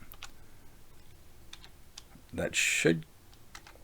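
Commands being typed on a computer keyboard, a couple of quick bursts of close, crisp key clicks near the end, with someone talking briefly beforehand.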